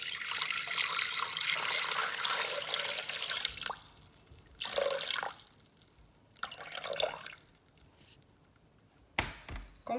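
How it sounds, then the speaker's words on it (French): Tap water runs steadily into a Thermomix bowl as it is washed, with splashing and sloshing that breaks off and returns in bursts and ends with a few drips and knocks nearby. "Donc vous lavez le bol."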